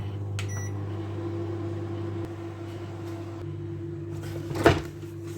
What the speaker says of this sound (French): après, je vais mettre au micro-ondes pour fondre le beurre